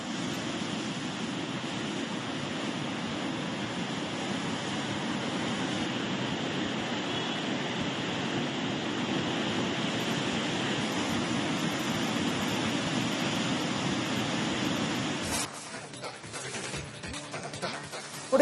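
The flooded Phalguni river, swollen by heavy rain, roars in a steady, broad rushing wash that holds constant for about fifteen seconds before shifting to a rougher, choppier texture near the end.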